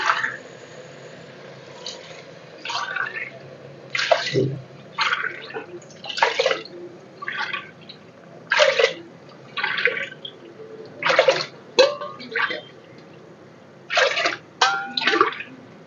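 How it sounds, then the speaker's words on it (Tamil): Water measured by the glass and poured into a pot of basmati rice for biryani: a series of separate splashy pours and sloshes, close, with quiet gaps between them. "எட்டு கிளாஸ் போட்டுக்கிறோம்மா தண்ணி."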